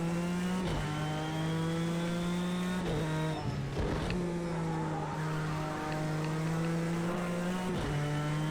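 A GTE race car in the video game Project CARS 2 revs hard and steady, its engine droning loud and close, with a few abrupt gear-shift dips and re-accelerations, no voices.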